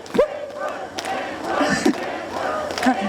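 A concert crowd at the Daeri Donggul festival in Samcheok shouts a rhythmic encore call for a stage performance, loud massed voices rising and falling in bursts with a few thumps over about three seconds.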